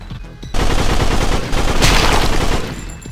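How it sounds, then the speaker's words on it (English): Rapid bursts of Tommy gun fire in the video game Veggie Killer, a dense, loud, continuous rattle of automatic shots lasting most of the clip after a brief quieter start. "I need some guns. I need them quick. There we go. Tommy gun."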